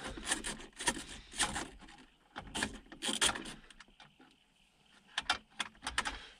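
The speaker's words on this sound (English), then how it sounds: "Just remove these bolts." A 10 mm socket wrench works bolts loose on a 2024 facelift Toyota 70 series Landcruiser, giving close, quiet bursts of ratcheting and metallic scraping separated by short pauses.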